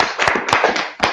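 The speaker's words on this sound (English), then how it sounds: "Clap it up for the class." A brief burst of hand clapping from a small group at a class session, close and fairly loud, with dense overlapping claps throughout.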